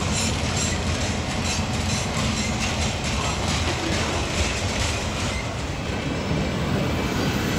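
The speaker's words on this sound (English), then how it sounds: "that locomotive in weight appears to have come a little bit closer" Railway locomotive hauling freight approaching, a steady loud rumble with faint rail clatter throughout, no voices.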